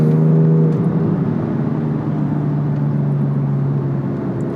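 A Porsche 997 sports car with a newly installed exhaust idles and revs with a deep, steady rumble close by, a low throaty drone that swells slightly at the start and holds.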